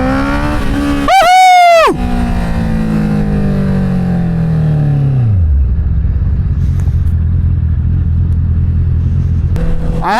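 An inline-four motorcycle engine revs hard and then drops through downshifts, pitch falling steadily over several seconds before settling into a low, loud rumble; a rider whoops briefly near the start.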